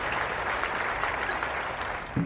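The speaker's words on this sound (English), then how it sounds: "Applause for the mod" Brief, fairly quiet applause for a moderator during a stream of the Lies of P demo, a steady wash of clapping with a low thump near the end.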